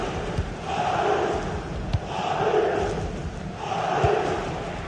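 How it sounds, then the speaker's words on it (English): A football video game crowd cheers and chants in rolling waves that swell and fade about every second and a half, loud and continuous, with no commentary over it. "Well, the crowds are up for this."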